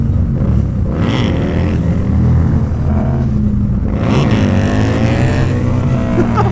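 A Harley-Davidson V-Rod motorcycle fitted with a Porsche engine accelerates hard, its loud, close engine note building and surging through two strong pushes with no talking.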